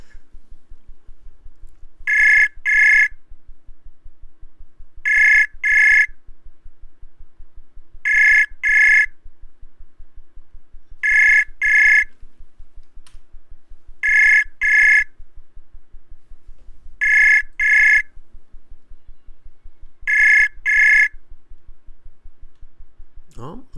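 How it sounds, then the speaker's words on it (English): An online video call rings out with a repeating double-burst tone, eight evenly spaced pairs about three seconds apart, clear and prominent over faint background hum. "It was just ringing, ringing, ringing, and then nothing happened."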